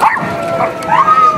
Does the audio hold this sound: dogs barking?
yes